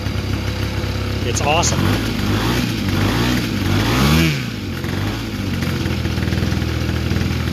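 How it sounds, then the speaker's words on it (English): A brand-new, not yet broken-in EME120 motorcycle engine on JMB Brecka canisters and headers idles with a steady low pulse, then revs up and back down once, loud and close beside a house wall, with a person talking over it. "this is a brand new EME120 running JMB canisters"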